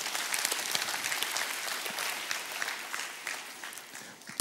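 A church congregation claps together during a sermon, a moderately distant, fairly soft patter of many hands with scattered sharper claps, continuous for several seconds without talk.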